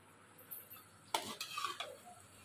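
A spoon scraping and stirring homemade ghee in a pan on the stove, a few quiet metallic clinks and scrapes over a faint background hiss.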